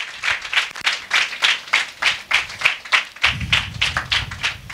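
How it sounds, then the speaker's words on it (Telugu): Congregation at a Sunday church service clapping in a steady rhythmic beat, loud and close, many hands together with a low rumble joining in near the end. "ఒకసారి గివ్ క్లాప్స్ టు జీసస్."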